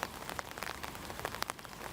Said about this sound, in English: as heavy rain fell on already sodden ground